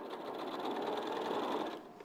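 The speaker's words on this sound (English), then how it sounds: "with my sewing machine" A sewing machine runs steadily, stitching down a raw fabric edge, its close motor hum continuous for about two seconds before easing off at the end.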